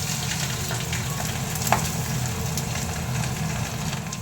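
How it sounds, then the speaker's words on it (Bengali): Slit green chilies fry with nigella seeds in hot mustard oil, giving a steady, dense sizzle close by that holds evenly throughout, with no talking. "দিয়ে দিলাম বেশ খানিকটা সর্ষের তেল, কালো জিরে ফোড়ন দিয়ে দিলাম, আর দিয়ে দিলাম বেশ খানিকটা চেরা কাঁচা লঙ্কা।"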